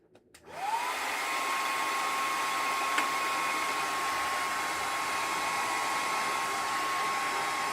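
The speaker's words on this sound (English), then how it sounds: "Hair dryer." A hair dryer switches on and blows steadily with a loud, even whoosh and a high whine, running on without pause.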